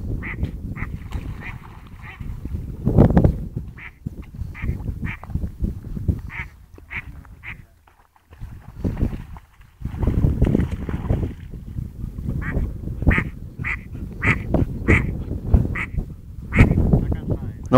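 A duck being hunted by a four-month-old springer spaniel puppy quacks repeatedly in loud, nasal bursts, some in quick runs, while people talk nearby amid splashing and rustling.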